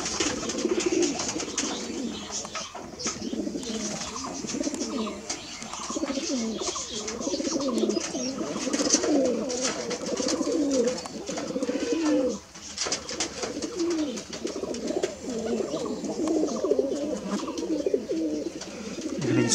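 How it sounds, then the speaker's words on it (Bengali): Deshi Giribaj pigeons at a farm keep up dense, continuous cooing, many birds overlapping in rolling, throaty bursts at close range with only a brief dip in the middle. "এখানে বেশ কিছু কবুতর আছে।"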